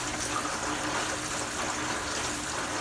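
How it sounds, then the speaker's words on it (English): Water splashing and surging inside a Clack retention tank on a water well, a steady close hiss and trickle of filling water with faint churning, continuous and even, no voices. "I'm trying to wrap my head around what this splashing, surging sound is."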